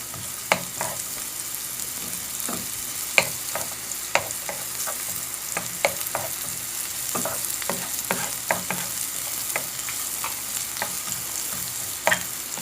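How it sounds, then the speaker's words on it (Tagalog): Onions sautéing in hot cooking oil for pork afritada, a steady sizzle and fry with repeated sharp stirring clicks and scrapes throughout, no talk. "pagka mainit na po syempre yung ating mantika, igigisa na natin ang ating sibuyas"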